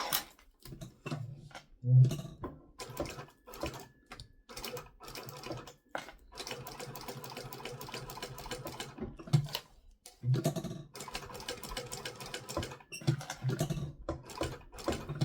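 A sewing machine stitches a fabric phone sling in short rapid bursts, the mechanical clatter starting and stopping repeatedly with brief pauses between runs, close and moderately loud.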